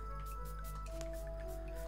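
Water draining in the puzzle game Carto, soft wet trickles and drips repeating over a steady low hum and gentle tonal background music.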